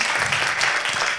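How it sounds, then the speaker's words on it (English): Audience applause fills the room at a city wellness pitch competition, steady dense clapping from a crowd between presenters, loud and continuous throughout. "Keep those hands clapping for our next presenter of TCBME, Derek Tarver."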